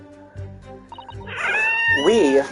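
A cat meows in The Great Ace Attorney 2: Resolve, giving a couple of rising, wavering calls over low, soft background tones, which swell into a loud, close cry toward the end.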